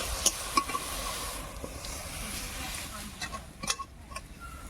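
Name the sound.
fenugreek greens frying in a pan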